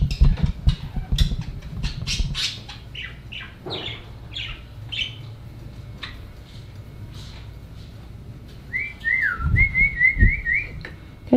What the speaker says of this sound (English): They're so noisy this morning. Listen to this. They are such happy birds this morning.